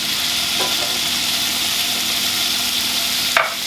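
Stir-frying Shanghai noodles with shrimp and scallion in a hot pan, a steady broad sizzle with a couple of brief scraping stirs, no talking.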